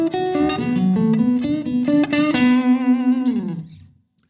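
Electric guitar playing a slow minor pentatonic blues lick: a sustained, slightly overdriven phrase with bends and a few picked notes, loud and close, ringing out and fading at the end, with no talk.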